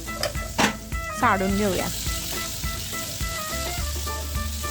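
Paneer frying in a pan with a steady, close sizzle throughout, broken by a few clatters of utensils as someone speaks briefly over it.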